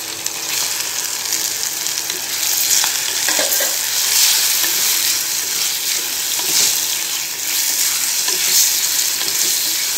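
Prawns and onions sauté in a hot pan, a loud, continuous sizzle and fry with stirring scrapes running steadily through it, close up and without talk.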